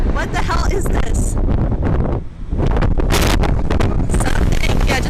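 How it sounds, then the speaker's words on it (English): Hurricane wind roars loud and steady through a city, battering the microphone with a brief lull midway before the gusts surge back, with rustling and clattering debris in the mix. "It's the hurricane."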